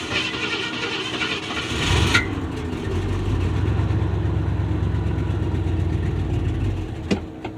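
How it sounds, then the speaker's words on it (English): A 1976 Ford F250 pickup with a 390 V8 cranks on a cold start, catches after about two seconds and settles into a steady, loud low idle close by, with one brief sharp knock near the end. "So, we're going to do a cold start on the truck here."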